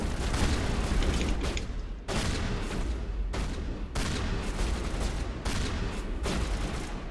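Shotgun fire in the Mass Effect video game, a run of loud, dense bursts of gunfire with brief gaps between them, close and heavy.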